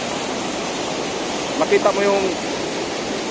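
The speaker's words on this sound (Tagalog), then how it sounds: "At sa ngayon malakas ang tubig dahil umuulan kanina" Rushing hot spring water at Zac Hot Spring, running strong and murky after rain, forming a steady broadband roar throughout while a person speaks briefly over it.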